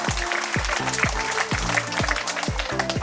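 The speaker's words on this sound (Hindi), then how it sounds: "दोनों ब्रदरों के लिए जोरदार ताली बजाकर धन्यवाद देते हैं" An audience at a Catholic silver jubilee celebration in Kalapahad, North and Middle Andaman, applauds to thank two brothers. Steady, sustained clapping runs throughout over a repeating low tonal beat.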